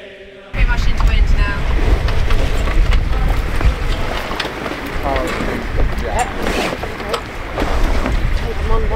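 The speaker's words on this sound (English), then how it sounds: "we finally found some wind, so it's time to set the sails and hoist the main." A sailboat at sea on an Atlantic crossing, hoisting the mainsail: loud, steady wind and water rush with rattling, flapping and creaking rigging noises throughout, starting abruptly after a brief quiet moment.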